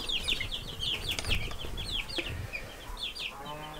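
Backyard chickens cluck and chatter close by, busy overlapping calls over a low background rumble.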